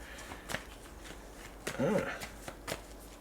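Tarot cards are shuffled close by in a few quick riffling bursts, with soft slaps of cards between them, while a person talks over the shuffling.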